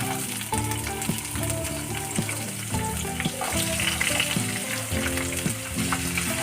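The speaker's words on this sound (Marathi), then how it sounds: "कांदा लवकर फ्राय होण्यासाठी वरून अगदी चिमूटभर मीठ टाकून घ्यायचं मिक्स करायचं" Finely chopped onion fries in a pan for spicy tomato chutney, a dense continuous sizzle heard close by alongside a faint steady tonal background, with no voices.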